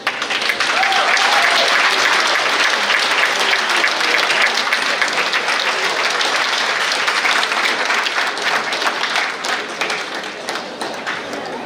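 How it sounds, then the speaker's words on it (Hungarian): Loud, sustained applause from a school audience greeting a senior class at a school dance event, steady dense clapping that fills the whole stretch and eases slightly toward the end. "a 12. A-osztály nagyon nagy tapsa"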